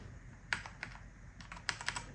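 Keys clack on a Macally MKey computer keyboard, an Apple A1048-style clone, in a few quiet, irregular bursts of typing, close but soft over faint background hiss.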